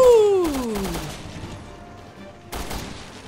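Gunfire in Resident Evil Revelations 2 on PS4: a loud, sharp gunshot burst at the start, with a falling whine after it, then quieter game ambience and another cluster of shots near the end.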